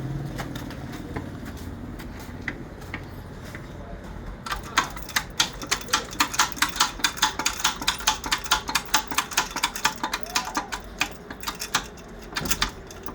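A workshop press forces a pin into a tuk-tuk knee joint, giving a long run of steady, evenly spaced sharp clacks that build in loudness, over a faint background hum.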